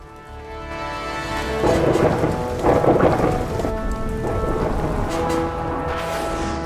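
A thunderstorm in Texas, with steady heavy rain pouring onto surfaces and rolling rumbles of thunder swelling twice, loud and close, with no voices.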